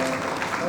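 Applause rises from the audience at a Hindi comic poetry gathering as a brief burst of dense clapping, with an announcer's voice heard over it.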